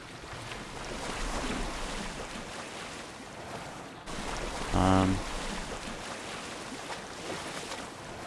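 A character in the water in the video game Assassin's Creed Odyssey, water sloshing and washing steadily with wind-like noise, a louder surge midway and a short tonal sound over it.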